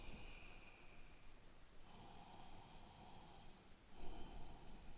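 A person inhales and exhales slowly during a gentle hip exercise on the floor, close by, giving a few long breaths separated by short pauses, steady and unhurried.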